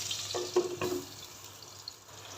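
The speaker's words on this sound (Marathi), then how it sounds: "दोन मिनटं आपण तेलावर ही कारली परतून घेतली" Stuffed bitter gourd (karela) pieces fry in oil with a soft, uneven crackle and a few brief stirring clatters early on, then a quieter low sizzle.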